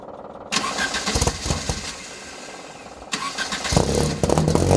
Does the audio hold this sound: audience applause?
no